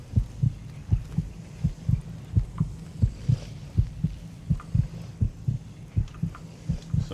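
Rhythmic heartbeats heard through vampire life sight in the Skyrim video game, a steady series of deep, close double thumps repeating about every second over a low hum.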